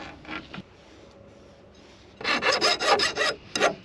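Painted metal tubing being cut, first a few short scraping strokes, then after a pause a loud burst of rapid rasping saw strokes close by.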